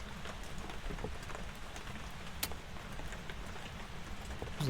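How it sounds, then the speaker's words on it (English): Steady rain in the horror game Phasmophobia, a soft continuous patter with scattered sharper drop ticks, faint and even throughout with no voice over it. "It's very hard to hear with the rain"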